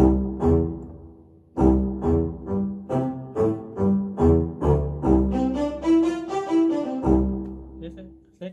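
Short, detached chords from a Korg Krome EX keyboard's staccato preset, played in bouncy bursts with gaps between phrases and a brighter melodic line rising near the end.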